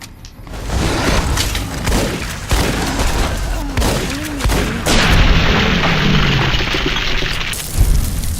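Heavy gunfire and booming explosions from Fallout: New Vegas roar continuously, loud and dense, with rapid shots and deep blasts layered over one another and a sustained rumbling barrage throughout.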